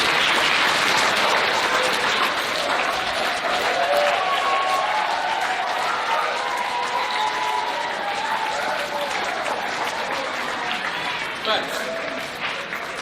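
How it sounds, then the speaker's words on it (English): School assembly at the Fulham Boys School, with a large crowd of boys giving sustained dense applause that fills the room, steady and loud from start to finish and tapering slightly near the end, with some voices mixed into the clapping. "So I'd like you all to give yourselves a big round of applause"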